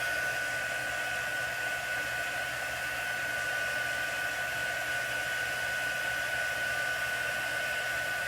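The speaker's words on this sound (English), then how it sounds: "but I'm going to hold my heat gun away." Heat gun drying a chalk transfer, a steady, unbroken whirring blower hiss with a constant high whine, running alone at even loudness throughout.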